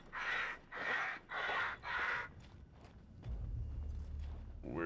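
A crow in Resident Evil Village gives four loud, harsh caws in a row, followed by quieter shuffling and a low rumbling ambience.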